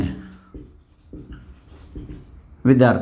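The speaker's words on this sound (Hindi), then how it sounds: "देखो अब छोटा सा इसका एल्जेब्रिक मेथड लिखता हूं मैं" Chalk or marker writing on a board during a Hindi maths lesson on percentages, heard as several short scratchy strokes in a rhythmic series, with a louder burst at the end.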